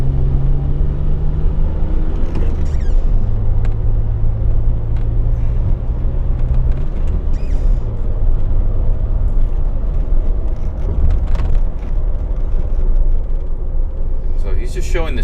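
A DeLorean running steadily with a constant low engine rumble, rising and falling in pitch as it works through the gears, close and loud throughout, with a voice talking over it.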